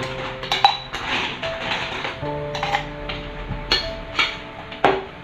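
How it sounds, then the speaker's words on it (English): Ice cubes clatter and clink into a metal cocktail mixer in a series of sharp, hard knocks and rattles, close and fairly quiet, spaced irregularly over several seconds. "we will put some ice in our mixer"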